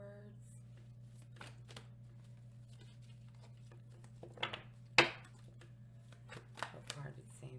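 Tarot cards being shuffled close by, with soft riffling and a few crisp slaps of card stock over a low steady hum, fairly quiet, while a voice talks.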